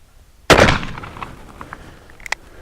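A single loud gunshot from a BFR .460 S&W Magnum revolver aimed at a .50 BMG bullet, a sharp close blast that decays into outdoor reverberation, followed by a few faint clicks and small knocks.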